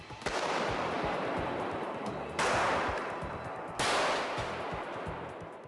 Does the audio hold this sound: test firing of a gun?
yes